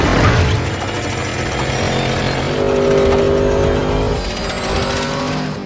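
Dom's race car from Fast and Furious 8 revving hard, a loud, steady engine roar with rising and falling pitch and a sustained high whine midway, with no voices.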